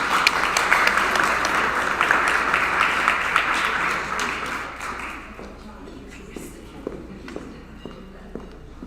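An event audience applauds to welcome a chef, a dense round of clapping for about five seconds that thins into a few scattered claps and taps near the end.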